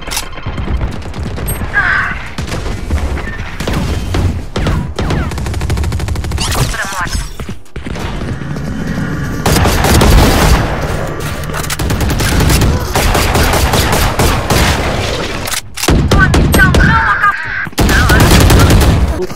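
Sustained bursts of gunfire and heavy blasts fill a Valorant round, loud and close, with dense stretches of shooting broken by brief lulls.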